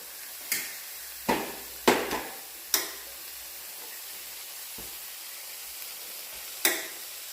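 Cooked rice stirred through in a pan, heard as a few sharp scraping clinks of a spoon at irregular intervals over a faint, quiet frying hiss.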